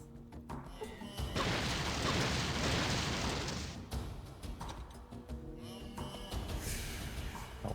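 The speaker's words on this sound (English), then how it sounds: "Oh, the explosion endures there." Explosion in Fallout 2 after a field of mines: a sustained broadband roaring blast lasting a few seconds, loud and close, then fading into lingering rumble and scattered game noise.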